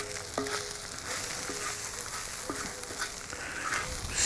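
Bacon fried rice sizzles in a hot pan with a steady, close hiss, broken by a few sharp scraping clinks of a utensil as it is stirred.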